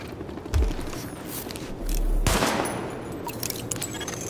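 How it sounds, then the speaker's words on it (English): Gunfire from a weapon test at highlighted targets in the video game Tom Clancy's The Division, a few sharp shots spread across the clip over a steady background hum. "Weapon test initialized. Open fire at the highlighted targets."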